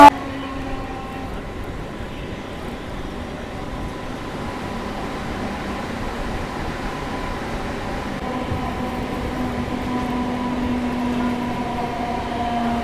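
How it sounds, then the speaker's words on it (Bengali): A local train rolls into Panskura Junction railway station with a steady low rumble and faint wheel clatter, heard from inside the carriage at an even, moderate level. "আর আমরা এখন এন্টার করছি পাঁশকুড়া জংশন রেলওয়ে স্টেশন"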